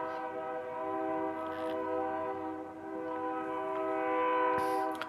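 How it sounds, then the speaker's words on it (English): A train rolls past close to the rail track near a home, its horn sounding a sustained multi-tone blare throughout, steady and fairly loud, with brief clanks from the cars toward the end. "there's the train going by"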